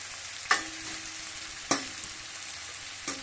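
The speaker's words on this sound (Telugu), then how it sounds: "ఆనియన్స్ని ఈవెన్గా ఫ్రై చేసుకొని" Onions frying in a pan give off a steady sizzle, broken three times by a sharp clatter as a utensil stirs or strikes the pan, heard close with no talking.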